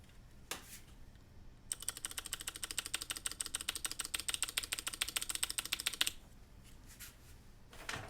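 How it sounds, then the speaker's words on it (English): Rapid, sharp clicks of typing on a mechanical keyboard fitted with very clicky Gatistottle switches, a blend of Gateron and Aristotle designs, in a steady burst of about four seconds after a lone keystroke, close and crisp with no voices. "Gatistottle is a combination of Gateron and Aristotle switch. It's the most clicky switch in the world"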